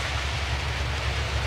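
Rain falling steadily outdoors while on the road, a dense, even hiss that fills the short stretch without a break.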